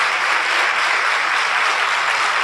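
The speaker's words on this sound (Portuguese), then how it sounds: "Vamos dar um aplauso para esses irmãos?" Audience applauding in a church during a thanksgiving service, continuous dense clapping at an even, strong level from start to finish with no voices.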